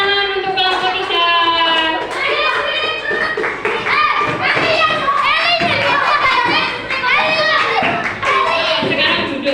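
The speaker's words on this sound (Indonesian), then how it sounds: "Tepuk tangan untuk kelompok 3." A classroom of children claps for a group after its presentation, brisk, dense applause filling the room with kids' voices chattering and calling over it throughout.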